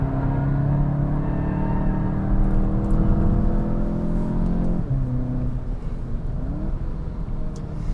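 A 2023 Volkswagen Jetta GLI drives along a winding road, its engine a steady close rumble and whir that holds a constant tone and shifts in pitch partway through, with no talking.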